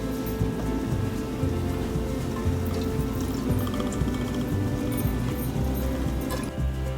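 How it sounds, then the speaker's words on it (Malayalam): Cooking oil poured into a preheated pan on medium heat for a Kerala pork curry, giving a steady, close, rain-like hiss and patter that runs continuously with no voices. "ഇപ്പോൾ പാൻ ചൂടായി, നമുക്ക് എണ്ണ ഒഴിക്കാം."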